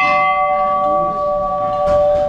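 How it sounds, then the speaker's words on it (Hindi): The largest temple bell at Tarapith rings out loud and close, its long steady tone humming on under faint background noise, with a brief clatter near the end. "सबसे बड़ा घंटा"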